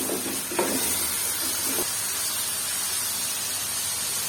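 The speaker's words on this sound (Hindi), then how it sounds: "चिकन को उस वक्त तक फ्राई करेंगे जब तक इसका कलर वाइट ना हो जाए" Chicken pieces frying in a pan for a dhaba-style cauliflower potato curry, a steady loud sizzle with a few stirring scrapes early on, no talking.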